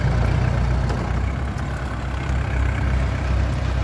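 Truck and tractor engines idle together in a steady, heavy low rumble that holds evenly for the whole stretch, with no voices over it.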